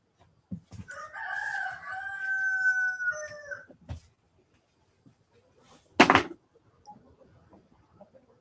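A rooster crows loud and close in one long drawn-out call lasting about three seconds, followed by a short quieter sound and a sharp knock, then near silence.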